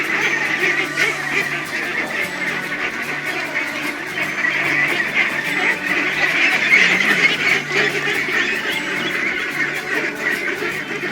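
A flock of two-month-old White Pekin ducklings on a duck farm quacks and peeps nonstop, a dense, busy chorus of small high calls close by.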